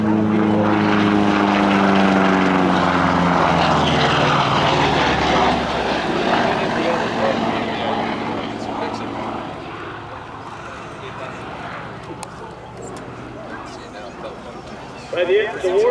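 A Republic P-47 Thunderbolt's radial engine during an airshow demonstration at EAA AirVenture, a loud propeller drone that passes near and then fades farther away, with a commentator talking over it.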